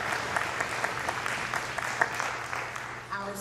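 Applause from an audience at a Martin Luther King Jr. celebration, moderate clapping that swells and thins over a few seconds, with a voice briefly audible near the end.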